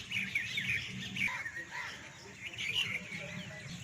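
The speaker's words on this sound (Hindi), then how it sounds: "सुबह सुबह का वक्त है, परिंदे चहचहा रहे हैं।" Morning birdsong fills the garden within the historic Masaman Burj in Wazirabad, Pakistan, with repeated lively chirps and tweets while someone talks beneath them.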